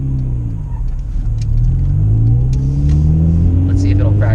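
A Honda Integra Type R, barn-find Teggy with its turbo removed, revs hard from inside the cabin, engine pitch climbing steadily as it crosses into VTEC, loud and droning over road noise, with a voice speaking over it.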